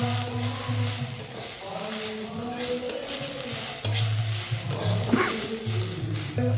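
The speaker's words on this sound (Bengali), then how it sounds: "আর দিয়ে দিচ্ছি লঙ্কার কুচি দিয়ে ঝালটা তোমরা তোমাদের স্বাদ মতন দেবে আবার আমি একটু নেড়ে নেব" Chopped green chillies and egg are stirred in a sizzling frying pan, with a steady hiss, scraping spatula strokes and a low mechanical hum underneath.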